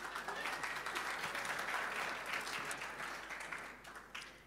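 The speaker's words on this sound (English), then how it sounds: "clap for the judges, please." Audience applause for the judges at the Imagine Cup 2012 finalist presentations, a steady dense wash of clapping that holds level, then thins toward the end.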